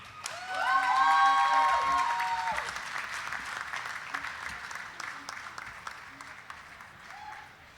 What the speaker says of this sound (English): Let's give all the graduates a big round of applause.